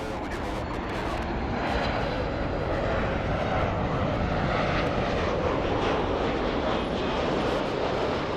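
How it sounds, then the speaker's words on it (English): A Southwest Boeing 737 airliner taking off, its jet engines a steady, loud broadband roar that swells slightly and holds, heard from outside at an airport. "lining up, we have the Southwest 737 flying to Tampa"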